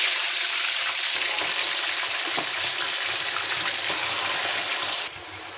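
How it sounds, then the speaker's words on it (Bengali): Broiler chicken pieces fry lightly in hot oil in a pan, giving a steady, dense sizzle that stays loud and even throughout, with no voices. "আমি সবগুলো মুরগি মাংস এখানে হালকা ভাজা দিয়ে নিব"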